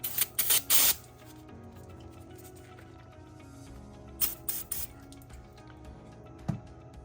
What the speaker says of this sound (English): To remove some more corrosion, I'm going to use some electric motor parts cleaner.